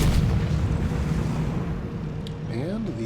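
A Centurion tank's cannon fires in World of Tanks, a loud boom at the start that fades into a long rumbling tail, with a faint tonal engine whine near the end.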